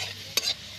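Garlic frying in a pan, a soft sizzling hiss with one brief scraping stir, close and fairly quiet, no talk.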